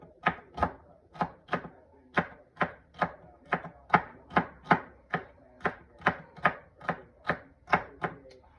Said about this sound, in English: And we're going to chop, chop, chop, chop